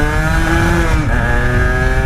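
An A1-licence motorcycle engine of about 11 kW pulls steadily under load, a loud, continuous droning note with a slight shift partway, close and alone without talk.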